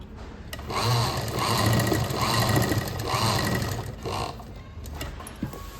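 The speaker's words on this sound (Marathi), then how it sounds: "असं डबल शिलाई मारून घ्यायची मशीननी" A sewing machine runs steadily as it stitches a fall onto a sari edge with a double seam, its mechanical whir and rapid needle rhythm continuous and close, with brief slowdowns between bursts.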